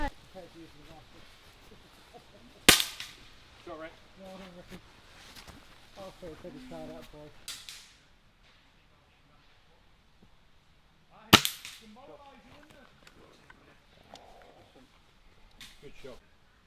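Air rifle shots at an outdoor HFT shooting competition: two sharp, loud cracks spaced several seconds apart, with people talking nearby between them.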